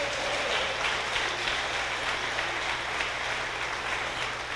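A church congregation applauds in praise of Jesus with a steady wash of many hands clapping. A low hum sits underneath, and the clapping holds at an even level throughout.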